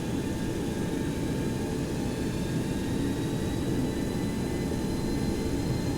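Boeing 727-200F jet engines at takeoff power in X-Plane 11, a steady, dense roar with a faint high whine running through it, loud and unbroken throughout.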